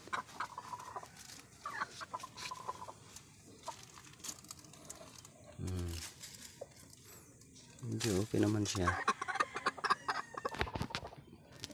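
A chicken clucks repeatedly close by beside a homemade egg incubator with a thermostat, the bursts of clucking rising loudly around people talking.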